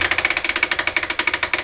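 An old rust-restored flywheel drilling machine runs as its bit advances, making a quick, regular mechanical knocking rhythm, close and moderately loud, with no voices.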